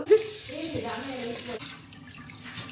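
Tap water runs steadily over curry leaves being washed in a sink, with a soft continuous splash beneath a voice talking close by.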